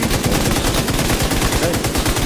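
Light machine gun in a video game firing in a sustained, dense burst, rapid shots blurring into a continuous loud rattle from start to finish with no pauses.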